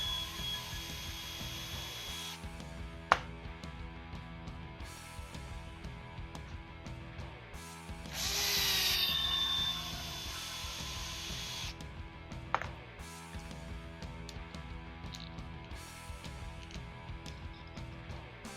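Small screws tightened by hand while building a Tekno EB48 2.1 RC buggy kit, with faint tool clicks and ratcheting, a couple of sharp knocks and a brief hissing burst in the middle, all fairly quiet and without talk.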